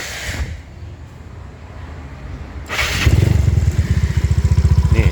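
A Yamaha Mio scooter with a seized rear wheel idles quietly, then revs up so the rear wheel spins hard, giving a loud, rapid, pulsing engine drone.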